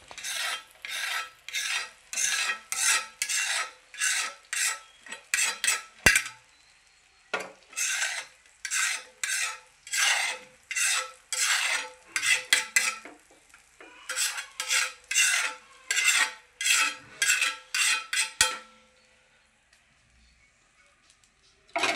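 A spoon rhythmically scrapes and ladles gravy over eggs in a metal pan, about two strokes per second in repeated bursts with brief pauses, loud and close, falling quiet near the end.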